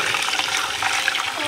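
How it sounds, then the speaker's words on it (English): Seafood broth from cooked shrimp is strained, the liquid pouring in a continuous close, splashing rush throughout without pause. "We're gonna strain the broth."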